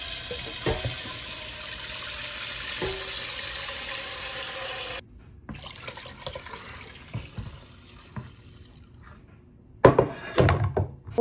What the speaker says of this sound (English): So let's get some more water in this